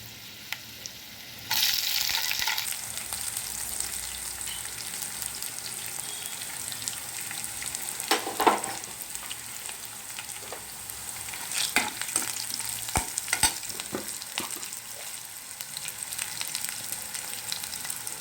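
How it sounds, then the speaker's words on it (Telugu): Green chillies drop into hot oil for lemon rice, bursting into a loud, steady sizzle with occasional stirring clatter that keeps going to the end. "కొంచెం ఇవి వేగాకనే పచ్చిమిర్చి వేసుకోవాలి."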